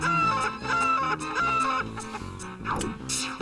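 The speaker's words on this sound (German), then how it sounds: "Ich kämpfe mit einem Huhn" Synthesized chicken clucks repeat in quick bursts over a busy, loud game soundtrack with steady musical tones.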